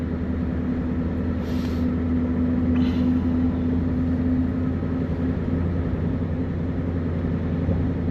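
A truck with an engine malfunction drones loudly and steadily from inside the cab, a constant low rumble with an uneven hum and no voices.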